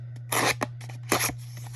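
An open scissors blade rubs along paper to distress its edge, making two short, close scraping strokes with a small tap between them.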